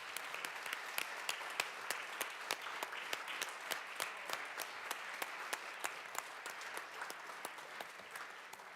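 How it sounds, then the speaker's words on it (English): Sustained applause fills the Colorado House chamber during a legislative session, many hands clapping in a dense, steady patter with sharper individual claps standing out, moderately distant and continuing for several seconds without speech. "A round of applause."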